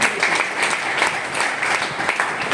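An audience at a business leadership talk claps steadily throughout, a dense, continuous applause from many hands, fairly loud and close, with no talking over it.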